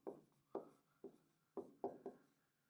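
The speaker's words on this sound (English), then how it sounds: "Now up here in the top right, we're going to write nuestro." A word written by hand, six crisp pen strokes on paper spaced about half a second apart, close and quiet with no talk.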